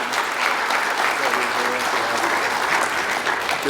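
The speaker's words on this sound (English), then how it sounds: "Let's applaud him one more time." Audience applause at a Black History Month celebration, a steady, dense wash of clapping that holds at full strength throughout.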